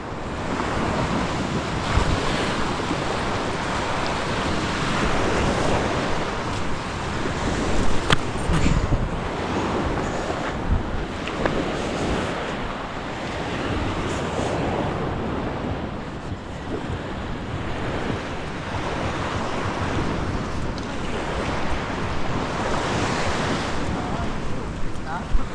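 Waves wash onto a seashore under steady wind buffeting the microphone, a continuous broadband roar with surging swells and no clear speech.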